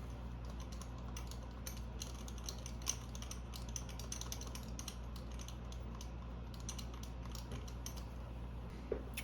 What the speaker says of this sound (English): I got the spark plug tightened down.